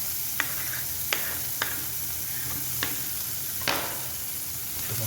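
Five green chillies frying in a hot kadai while making a kadai beef pepper chukka, a steady broadband sizzle broken by several sharp spatter pops and stirring clicks, close and fairly quiet, with no talking.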